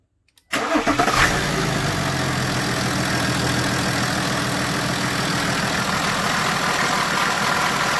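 A BMW F11 fires up for the first time after a new turbo is fitted: a short crank catches into a loud, steady idle that holds close by with no talk.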